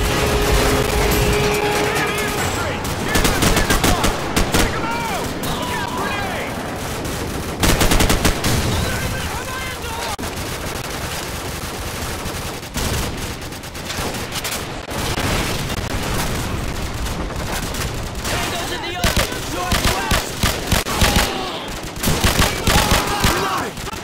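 Dense, continuous gunfire and explosions in Call of Duty 4: Modern Warfare, with rifle and machine gun bursts rattling nonstop, loud and close, while shouted soldier voices break through the battle din.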